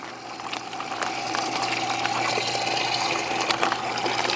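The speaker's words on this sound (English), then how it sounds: "I'm gonna take my hose and just fill the bucket as the sump pump is going." A garden hose gushes into a bucket of antifreeze meant for tractor tire filling while a sump pump runs nearby, producing steady splashing and pouring water over a low constant pump hum.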